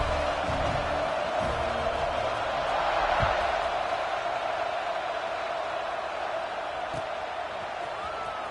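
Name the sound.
football stadium crowd cheering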